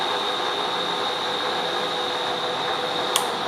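A Bridgeport Series I 9x42 vertical milling machine turns in slow back gear with a steady, even mechanical hum and high whine throughout, and a single sharp click near the end.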